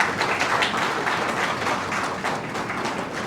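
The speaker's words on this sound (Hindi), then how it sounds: "थोड़ी तालियां अगर हो जाएंगी तो हम बहुत आभारी रहेंगे।" An audience at a knee-replacement silver jubilee celebration claps to welcome a doctor, a dense, fairly loud patter of many hands, steady throughout.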